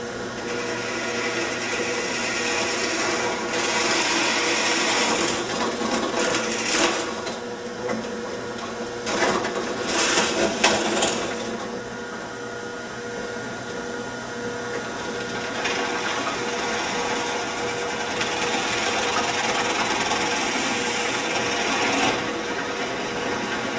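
A drill press bores bolt holes in an aircraft wing, a steady mechanical whir with scraping, rasping bursts as the bit cuts, close and continuous with no talking.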